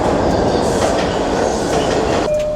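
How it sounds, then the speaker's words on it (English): A New York subway train rumbles steadily through a station, a continuous loud roar of wheels and rail noise with clattering, ending in a sustained tonal squeal or hum as it slows. "I'm currently waiting to take the New York subway down to Battery Park"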